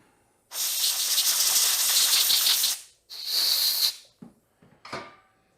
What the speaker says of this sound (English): So give it a douse of the carb cleaner. A little shot of air.